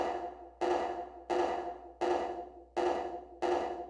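Ableton Live 10 reverb with high frequencies rolled off, applied to six evenly spaced, punchy hits that each trail into a darker, muffled wash of reverb, steady and alone with no talking.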